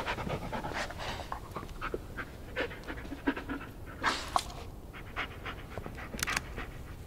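A dog in the Blair Witch video game panting rapidly and steadily, quick rhythmic breaths close up and fairly quiet, with no voices.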